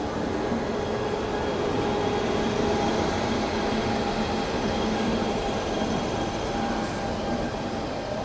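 The Mangala Lakshadweep Express rolls into a station as a steady, loud rumble of railway wagons and wheels on track, continuous and close with faint high squeal, no talk.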